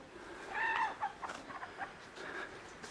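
Farm chickens cluck softly nearby, a rooster-like call rising briefly, followed by a scattering of short, quiet clucks and peeps in a calm outdoor setting.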